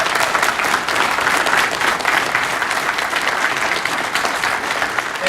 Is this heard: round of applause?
yes